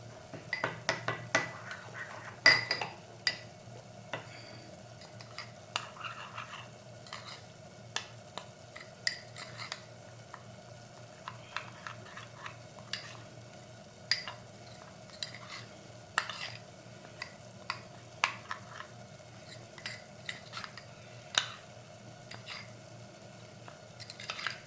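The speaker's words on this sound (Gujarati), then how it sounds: "હવે આ બધું આપણે મિક્સ કરી દેવાનું।" Guvar (cluster bean) sabji with black salt being stirred and mixed in a pan, a steady run of soft scraping clicks and spoon taps over a faint background hum, with no talk.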